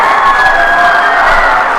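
A crowd at a high school volleyball match, including the student section, cheers and shouts loudly and continuously, a dense roar of voices with whoops throughout.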